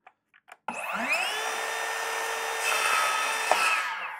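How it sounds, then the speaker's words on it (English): A circular saw spinning up and making a small cut along a clamped straight edge: a few light clicks, then a sharp motor whine that rises quickly and holds steady, close and loud. "just make a very, very small cut, just to the point where you can see the cutter starting to work"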